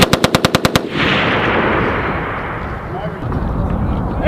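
Military readiness exercise gunfire: a rapid string of about seven loud, evenly spaced automatic shots, then a long roaring wash of echoing fire and rumble that carries on to the end.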